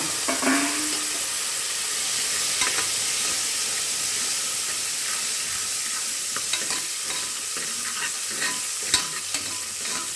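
Onions for chicken gravy sizzle and hiss steadily in a hot pan, with occasional scraping and stirring sounds throughout.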